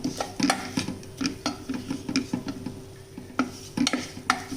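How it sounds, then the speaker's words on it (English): Gram flour roasting in a pan is stirred continuously, an even rhythm of soft scraping strokes and light clinks of the spoon against the pan, close and fairly quiet with no voices. "Now while this is roasting, again we need to stir it continuously because we don't want the gram flour to get burnt."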